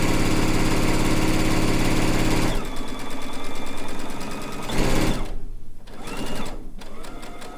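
A sewing machine with a quarter-inch piecing foot stitches a quilt seam, running in loud rapid bursts with a faster stretch at first, then slower runs broken by brief pauses.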